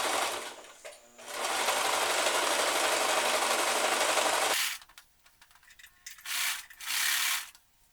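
A sewing machine runs a straight seam through pajama fabric, a fast steady whirring burst of about three and a half seconds, then quiet with two short stitching bursts near the end.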